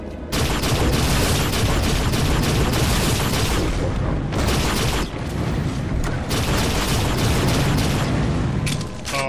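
Flak cannon shots burst in the video game Unreal Return to Na Pali, a dense, loud, nearly continuous barrage of blasts and crackling impacts with only a brief dip midway.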